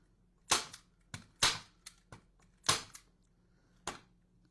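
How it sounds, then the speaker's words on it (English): A staple gun fires staples through ribbon into a holiday wreath, giving seven sharp, close snaps spaced irregularly over a few seconds, with quiet pauses between them and no talking. "so we're going to come back to our staple gun"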